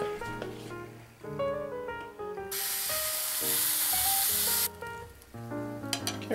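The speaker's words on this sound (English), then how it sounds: "Then, quickly, add your pancake batter." Pancake batter hits a hot sprayed pan and sizzles loudly for about two seconds, with soft background music playing before and after.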